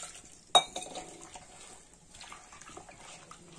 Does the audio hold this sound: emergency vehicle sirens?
no